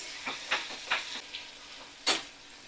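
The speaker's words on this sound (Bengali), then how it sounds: "তো দেখো, পেঁয়াজটা ভালো করে আমি ভাজা করে নিচ্ছি।" Sliced onions fry over a medium flame, with intermittent sizzling bursts and stirring scrapes up close, several short crackling flare-ups spaced unevenly.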